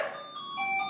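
A doorbell chime rings indoors, two clear sustained tones in quick succession, fairly faint and alone without talk.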